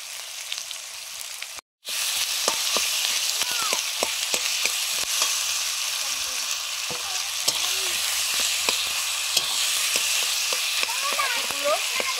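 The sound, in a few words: potatoes and spices frying in a wok for aloo curry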